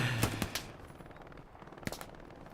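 Machine gun fire in a WWII video game battle at Elsenborn Ridge during the Battle of the Bulge: a few sharp, loud bursts early on, a quieter rattling stretch, then another crisp burst near the end.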